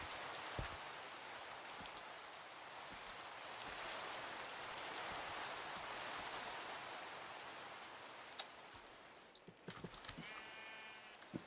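Rain in the Minecraft modpack GregTech New Horizons: a steady, soft hiss of falling rain with scattered drop patter, fairly quiet and continuous, with a few brief game clicks near the end.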